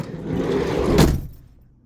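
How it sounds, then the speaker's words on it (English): The side door of a 2018 VW Transporter campervan rolls and thuds shut with one solid, close impact, followed by a muffled fade. "once I've shut this door"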